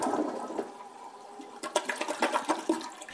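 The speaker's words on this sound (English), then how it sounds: "The Proximity also uses new toilets that use much less water to flush." A low-flow toilet in a green hotel's restroom flushes with a loud rushing surge of water that swells halfway through and then churns and gurgles as it drains, heard up close with no voices.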